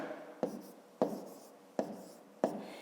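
A pen writes numbers on paper for column multiplication in a fifth-grade maths exercise: four sharp, close taps about half a second to a second apart, each followed by short scratchy strokes, with no voices.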